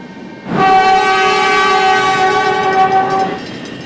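A train arriving at a station in the game Trainz sounds one long, loud, steady horn blast, with low rumble of rail noise underneath and no voices.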